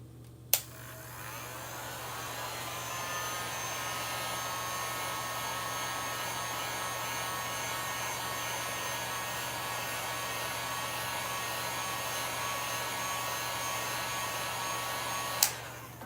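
A heat tool runs steadily for about fifteen seconds, drying paint on a tier tray, its constant close whirring blow bracketed by a click on and a click off.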